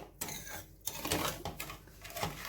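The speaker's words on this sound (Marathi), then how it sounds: "हे सतत असं हलवत राहायचं साखर विरघळेपर्यंत" Lemon juice and sugar stirred in a pan on the stove, a spoon scraping and clinking against the metal in steady irregular strokes, close and fairly quiet.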